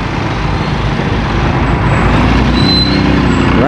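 Steady road traffic on a Wednesday roars along close by, a continuous broad rumble of trucks and buses with a brief high hiss like an air brake near the end, no talking.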